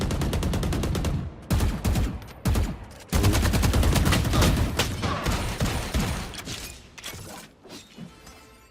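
Rapid bursts of Valorant gunfire in a collegiate esports match, loud and close, with several sharp volleys separated by short gaps before a sustained stretch of shooting.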